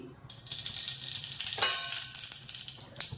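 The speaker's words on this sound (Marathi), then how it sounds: "तेल खूप नाही घालायचंय, थोडंसंच तेल घालायचंय। याच्यात घालूया अर्धा चमचा मोहरी" Half a spoon of mustard seeds hit a small amount of hot oil, giving a close, bright, hissing sizzle that swells and crackles with some popping, steady throughout.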